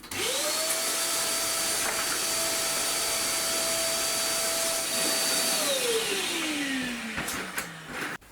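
A vacuum cleaner runs with a loud, steady whine close by in a woodworking shop, then its motor pitch slides down as it shuts off, followed by a few small knocks.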